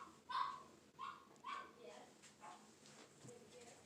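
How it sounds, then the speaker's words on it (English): A dog barks several times at a distance, a short series of yips and woofs spaced about half a second apart, fairly faint in a quiet indoor room. "And I wonder what Jazzy is barking about."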